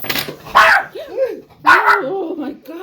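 A dog gives two loud, close barks, each followed by a whiny, sliding yelp. The barks are separated by a short pause.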